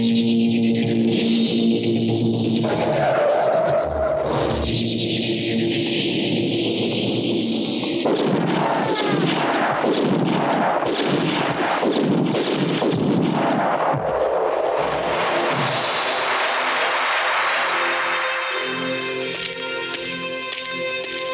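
Gunfire in a film scene: dense, loud bursts of shots and blasts crowd the soundtrack for about twenty seconds, layered with heavy processed effects and no voices, thinning slightly toward the end.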